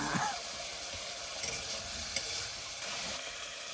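Prawns frying with spices in a pan, a dense continuous sizzle close by, with faint stirring scrapes under it and no talking.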